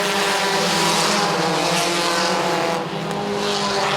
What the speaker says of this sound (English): Green flag, we're racing once again with your Sport Compacts.